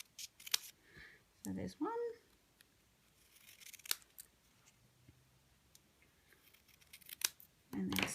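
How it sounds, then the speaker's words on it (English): Scissors snip card stock for Stampin' Up! punch art of a Peppa Pig figure, a few short close cuts spaced out between quiet gaps, with someone speaking briefly in between. "you're just going to snip up on each side"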